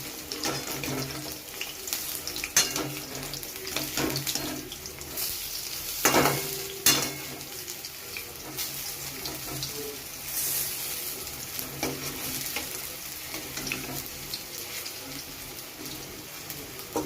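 Food frying in a pan and being flipped over, steady sizzling with intermittent scrapes, clatter and louder bursts of handling, plus a faint running-water-like wash in the background.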